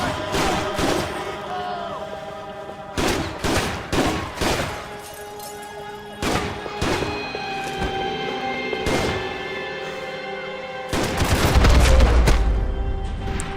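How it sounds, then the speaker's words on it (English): Heavy shotgun blasts and other gunfire in Max Payne 3, a string of loud booming shots in irregular clusters over tonal game music, ending in a rumbling crash. "Shotgun."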